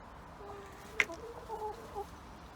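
Lohmann Brown hens cluck softly and intermittently in an allotment run. The calls are faint and close, with one brief sharp sound standing out.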